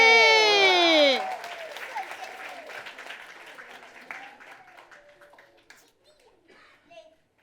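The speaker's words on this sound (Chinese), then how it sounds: "耶，掌声鼓励。" An audience at a church Christmas celebration applauds after children finish singing. A brief burst of song cuts off into a round of clapping that is strong at first and then thins out and fades.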